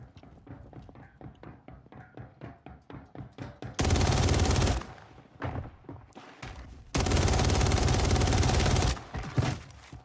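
Loud video game gunfire: a quick run of single shots followed by two long, dense automatic bursts, with a few scattered shots in between.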